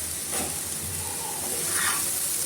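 Sliced bitter gourd frying in a pan over a gas stove, a continuous soft hiss and sizzle with a brief louder burst of spitting, no talking.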